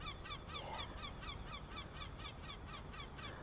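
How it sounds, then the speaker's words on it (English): Birds call in a steady repeating rhythm outdoors, a run of honking, goose-like cries roughly every quarter second, moderately close over a constant background hum with no talk. "Oh, the birds sound gorgeous too."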